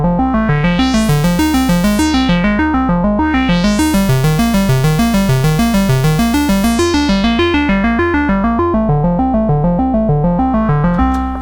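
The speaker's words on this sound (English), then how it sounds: "So I can create an arpeggiator and it will arpeggiate" A Pittsburgh Modular Lifeforms modular synthesizer arpeggiator running mostly one oscillator through a low-pass filter: a loud, fast, steady stream of repeating notes whose brightness sweeps open and closed in slow waves.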